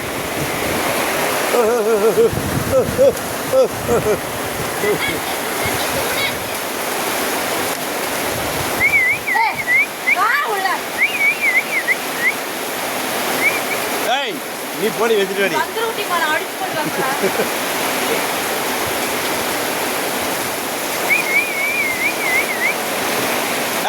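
Courtallam waterfall pours in a constant, heavy rushing roar close by, a broad wash of falling water that never lets up. People talk and call out over it at intervals.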